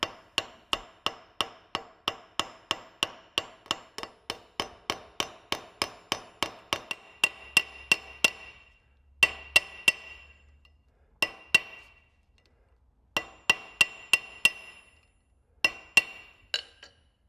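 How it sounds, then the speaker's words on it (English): Sharp, ringing metallic hammer strikes on a rivet in a small homemade bevel tool, a rapid even series of blows that slows into spaced pairs and short bursts, close and clear with no talk. "now that I've got it all riveted together"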